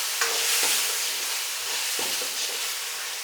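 Potatoes roast in a pan with salt and black pepper, stirred with a few distinct scraping strokes over a soft, continuous sizzle and hiss, close and fairly quiet.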